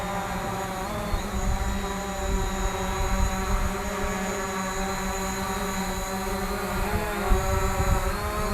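A white Hubsan Zino drone hovers in place outdoors, giving a steady, loud, high-pitched whine with layered tonal hum from its propellers that holds constant throughout.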